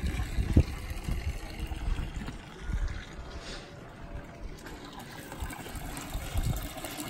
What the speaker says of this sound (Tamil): இது வந்து டேங்க் வந்து நிரம்பிடுச்சு, தண்ணி விழுகுது.